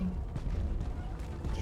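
A grenade blast in the video game Deep Rock Galactic, a loud, dense boom with rumbling low end that fills the short moment without pause.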